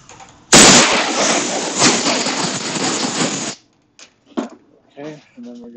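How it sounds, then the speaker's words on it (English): An air compressor blasts a steady, loud hiss of air over a salt-water-damaged iPhone for about three seconds, then cuts off, followed by a few short puffs and brief quiet sounds. "now we're just going to blow it with the compressor real quick"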